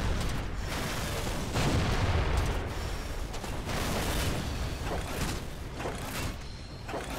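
Weapons firing in the mech combat game Battle of Titans, a steady dense barrage of booming, rumbling blasts and gunfire that keeps going without pause and carries no talk.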